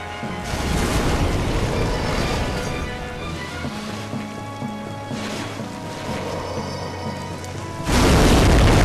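Fire bombs exploding in the video game Demon's Souls: a sustained roaring blast with rumbling flame, followed by another loud burst near the end, heard alone over game sounds.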